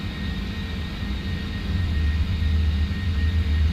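Four jet engines of a PMDG 747-400F cargo jet in China Airlines Cargo livery, climbing just after takeoff in Prepar3D v5.3: a loud, steady, deep rumbling roar with a constant hiss, slowly swelling over the few seconds.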